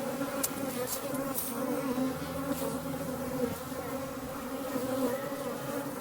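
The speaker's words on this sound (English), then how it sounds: "I'm amazed how many bees are already up here." Dense, steady buzzing of many honey bees swarming close around, a continuous droning hum with no talking.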